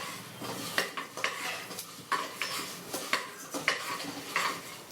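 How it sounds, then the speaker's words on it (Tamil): Toor dal fried in oil in a pan for sambar, with a utensil scraping and clinking against the pan in a steady rhythm of sharp strokes over a low background sizzle; no voices. "நல்லா இந்த எண்ணெயிலே நல்லா இந்த துவரம்பருப்பையும் நல்லா வறுத்துட்டு"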